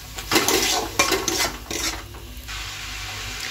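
A paste of onion, garlic, ginger and tomato is stir-fried in a pan. A utensil scrapes and clatters against the metal in quick bursts over a steady sizzle, then the stirring eases off and leaves a quieter fry.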